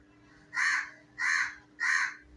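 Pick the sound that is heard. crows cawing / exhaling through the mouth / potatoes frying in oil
crows cawing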